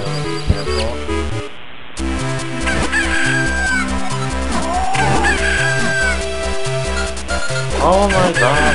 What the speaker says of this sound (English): Okay, the chickens will attack you, so careful.